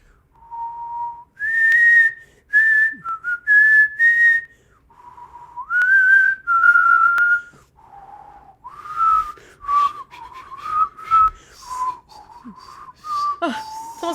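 A person whistles a melody, clear sustained tones close to the ear in phrased bursts with short breaths between, with pitch slides and rising and falling notes and no talking.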